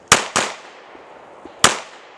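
Glock pistol shots at a gun club: three sharp, loud reports, two in quick succession and a third after a pause, each with a short outdoor decay, with no talk.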